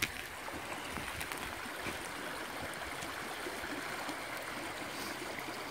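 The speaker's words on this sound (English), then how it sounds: "Well, now you can see we've got an actual running creek." A small running creek flowing outdoors, a soft, steady rushing and trickling wash that stays constant and fairly faint throughout, with no one speaking.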